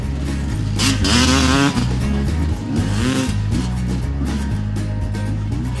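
A motorcycle in a speed contest against horses revs hard and accelerates, the engine whine sweeping up and down in several loud surges over a steady low rumble.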